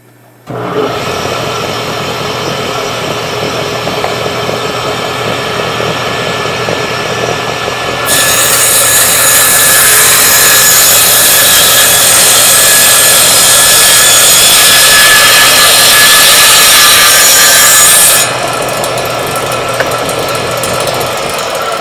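A power saw cuts wood to make a flag hinge, a steady loud buzzing grind that grows brighter and harsher through the middle of the cut before easing back, with no talking.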